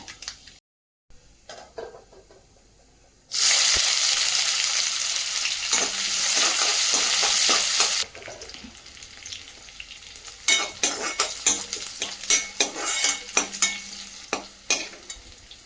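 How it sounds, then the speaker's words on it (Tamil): Shallots hit hot oil with a sudden loud sizzle that hisses steadily for several seconds, then settles into softer crackling and clinks of stirring, tempering for a Tamil kuzhambu. "இதுமாரி சின்ன வெங்காயத்தை போட்டு தாளிச்சோன்னு வச்சுக்கோங்களேன்"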